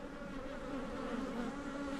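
Honey bees buzz steadily at a hive during an inspection, a dense continuous drone with no talk.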